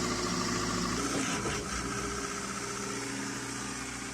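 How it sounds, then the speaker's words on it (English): A Hengyuan concrete pump's engine runs steadily at working speed, a loud, continuous low droning hum with mechanical vibration, a brief shift in tone near the start, then holding even and uninterrupted. "The engine will run at working speed automatic. The machine start pumping now."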